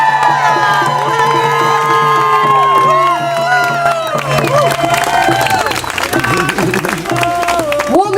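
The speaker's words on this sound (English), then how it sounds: "Can we have a cheer for women?" A crowd at an outdoor gathering on Burnaby Mountain in November 2014 cheers and whoops for women, loud and sustained throughout with scattered shouts and voices mixed in.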